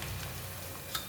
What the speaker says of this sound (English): With the very hot oil, we just need to fry it for 3 minutes.